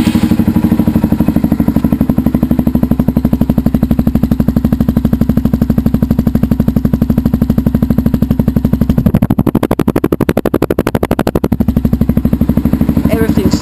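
A stock TTR 230 dirt bike idles close by in a rapid, steady single-cylinder putter, with a burst of rattling clatter partway through before the even beat returns.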